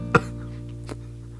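One sharp, close cough comes early, followed by a fainter throat sound, over a steady low background hum.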